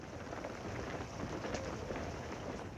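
Steady rain falls during a World War I trench documentary scene, a dense, even hiss with faint low rumbles beneath, continuous and moderately quiet.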